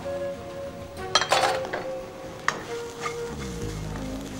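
Ginger and onion sautéing in a pan with garlic already browned: a light sizzle with a few quick spatula scrapes and clinks, heard up close and alone.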